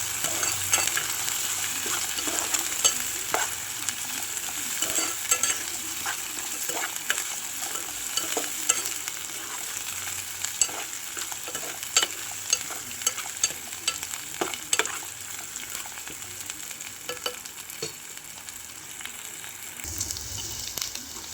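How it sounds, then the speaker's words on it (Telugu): Ginger, garlic and onions fry in a pan for chicken curry while being stirred, a steady close sizzle with repeated scraping clicks of the spoon for about twenty seconds, no voices. "అప్పుడు ఇట్లాకు ఉల్లిపాయలు కూడా ఇంకా కొంచెం ఫ్రై అవుతాయి."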